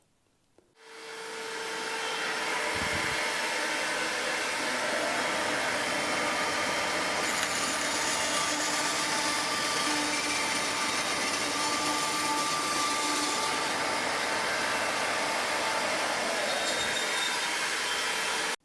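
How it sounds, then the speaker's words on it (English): Bandsaw cutting excess wood from a thinline bass neck heel, the motor spinning up in the first seconds and then a loud, steady whirring drone with a few low knocks, cut off abruptly at the end. "we can get rid of most of this excess material on the bandsaw"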